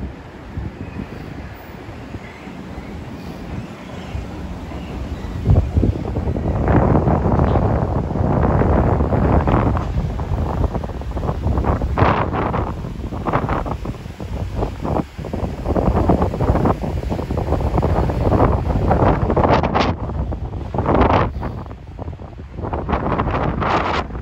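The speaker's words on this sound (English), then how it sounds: "As you can hear, it's a breezy, windy day today" Gusty wind buffets the microphone outdoors on a breezy Christmas Eve in London, a steady loud rumble with stronger gusts rising and falling throughout, no voices.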